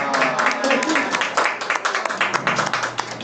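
A church congregation applauds during a Sunday worship service, a dense, steady patter of many hands clapping at close range, mixed with some talk underneath.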